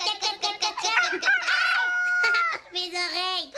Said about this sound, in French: le coq a fait cocorico